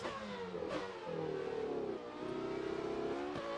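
Race car engine in an F1 video game set in 1998, a steady mid-pitched drone with rising and falling revs under light throttle, continuous and fairly close.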